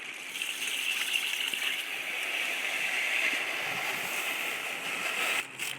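Water pours steadily into a kilo of rice being soaked for chicken biryani, a continuous close rushing splash that stops briefly near the end.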